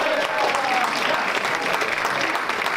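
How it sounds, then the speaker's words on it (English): Audience applause at a comedy workshop, a steady burst of clapping from a room of people lasting a few seconds, with a voice faintly heard under it. "Give a round of applause for Krishna"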